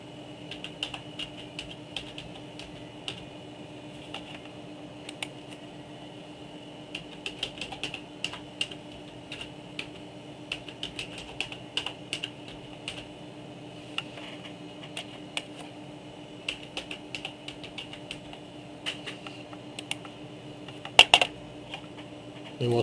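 Light, quick keystrokes on a computer keyboard tap out a new name in scattered clusters over a steady background hum, ending with a slightly louder click or two.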